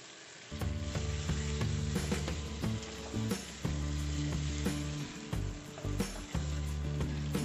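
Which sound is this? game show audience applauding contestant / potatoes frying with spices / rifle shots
potatoes frying with spices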